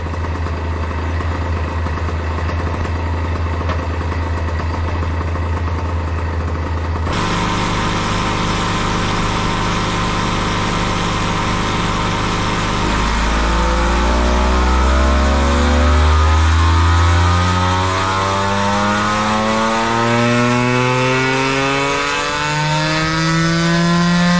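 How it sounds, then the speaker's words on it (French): A Honda NSR motorcycle engine with stock exhaust and stock muffler packing idles steadily on a test bench, then revs up and down in several loud, rising and falling sweeps. "Là on commence par l'échappement d'origine avec cartouche d'origine."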